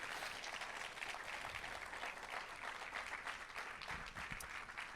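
Church congregation clapping during a Christmas service, a fairly faint but steady wash of many hands applauding without a break.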